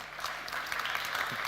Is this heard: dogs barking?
no